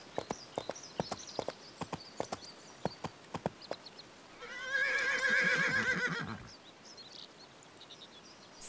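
Hooves clip-clop in a steady run of sharp beats, then a horse gives a long, bright whinny, followed by a few more hoof steps. The sounds come from the Barbie Horse Adventures: Mystery Ride video game and are heard alone, at moderate loudness.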